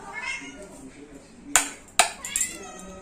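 A cat meows repeatedly in a home kitchen as fish is brought out for cooking. Two sharp metallic clinks ring out partway through, and voices murmur in the background.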